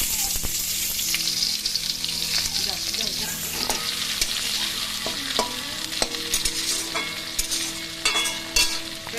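Chopped onion hits hot oil with dried red chillies for a koi fish dish, giving a loud, dense sizzle that settles into steady crackling, with repeated scraping stirs and utensil taps near the end.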